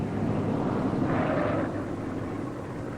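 A WWII aircraft comes in for a rough landing as a steady, rumbling engine drone with a swelling mid-range roar, fairly loud and continuous with no voices.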